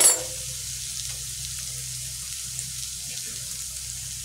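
Masala spice paste fries in oil for a chitol fish curry, giving a soft, steady sizzle after a brief louder burst at the start, close and even with no speech.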